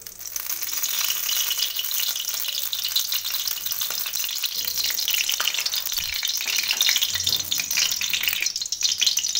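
Oil and food sizzle and fry steadily in a hot kadai while potato, cauliflower and paneer curry is cooked, with a dense, even crackle and occasional stirring clinks, close and continuous throughout.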